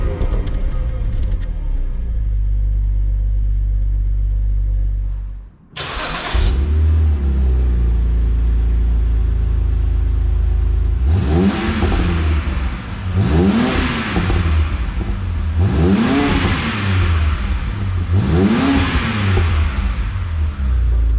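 BMW E90 sedan with N52 engine and Active Autowerke performance muffler idles, cuts off briefly, then restarts and revs in four rising bursts, deep and close, with steady rumble between.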